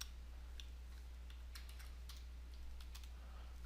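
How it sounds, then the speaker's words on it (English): Steady, light keystrokes tap on a computer keyboard, an irregular patter of clicks over a constant low hum, with no voices. "I will type in the number 1 and just call this"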